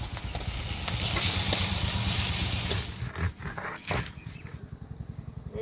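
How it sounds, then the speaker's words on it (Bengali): Onions hiss and sizzle in hot oil in a pan. After crushed garlic goes in, the frying quiets and breaks into stirring scrapes and clatter. It stays close, with no talk. "পেঁয়াজ সুন্দর ভাজা ভাজা হয়ে গেছে, এর মধ্যে এবার রসুন থেতো করাটা দিয়ে দেবো।"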